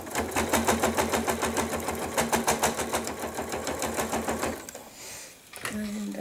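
Sewing machine stitching across wadding, a fast, even mechanical chatter of needle strokes that runs steadily for several seconds, then stops and gives way to quieter handling sounds.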